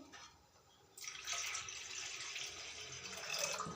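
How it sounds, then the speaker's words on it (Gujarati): Water pours steadily into a pressure cooker holding toor dal, a continuous rushing hiss that starts after a moment of quiet and keeps going. "બીજું પાણી નાખીશું।"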